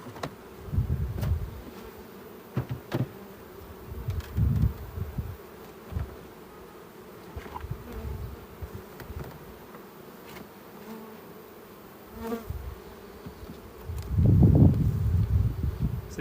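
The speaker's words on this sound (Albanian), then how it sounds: "Se di sa shihet, po bletët po vinë edhe këtu edhe këtu" Honey bees buzz around a hive while the colony is being split into two or three parts, the drone swelling and fading with close passes by individual bees, loudest near the end, with no talking.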